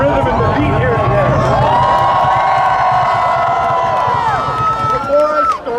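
A protest crowd at Queen's Park in Ontario cheers and whoops loudly for a group of drummers, a dense, sustained roar of many voices that eases slightly near the end.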